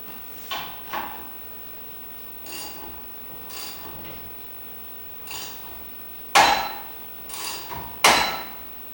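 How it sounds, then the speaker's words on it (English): A bearing puller held in a vise draws a bearing off a differential drive pinion, giving a series of sharp metallic clanks and scraping ratchets, several close and loud, spaced irregularly with quiet between them. "Simply forcing this screw down will pull the bearing up."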